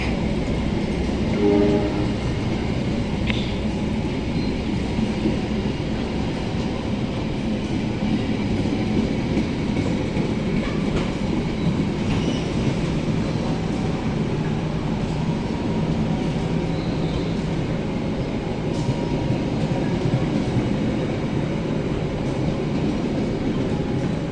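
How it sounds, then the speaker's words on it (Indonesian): A passenger train, the Banyubiru economy-class train, arriving at a station rumbles steadily close by with continuous rail noise and brief higher squeals, a long unbroken roar with no talking. "Nah ini rangkaian kereta api Banyu Biru sudah masuk jalur 1."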